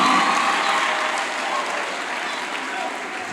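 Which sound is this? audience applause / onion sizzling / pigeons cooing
audience applause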